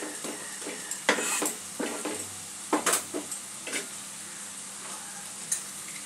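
Utensil stirring and scraping through onion stalks cooking in a pan for fish curry, with soft sizzling underneath and several sharp clinks against the metal, fairly close.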